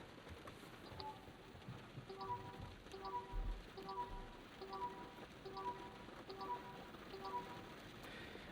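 Rain falls steadily outside a 2026 Jeep Cherokee turbo hybrid, a soft even patter heard faintly from inside, with a repeating chime pattern sounding at regular intervals over it.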